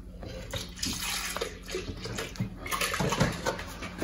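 Milk is poured in a thin splash into thick potato soup made with cream, giving a steady liquid trickle and splashing close by, moderately loud with small bursts along its length.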